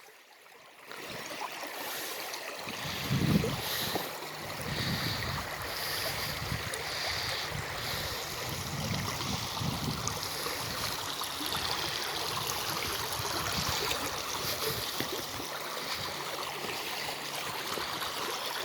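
Water rushing over rocks in a stream among trees, a steady broadband wash that runs continuously and fairly close, with a brief thump near the start.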